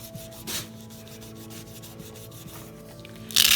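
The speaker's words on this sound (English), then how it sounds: "you stick it on top of your stamp, and rub it" Fingers rub a sticker down onto a wood block stamp in steady, close scuffing strokes, with a brief louder swipe near the start and a sharper rustle at the end.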